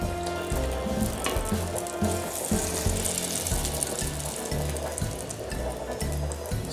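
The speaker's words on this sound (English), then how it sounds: "Sizzling sounds good." Yorkshire pudding batter poured into a hot oiled tin, loud close sizzling and crackling of frying fat with some clinking and rhythmic low thumps beneath.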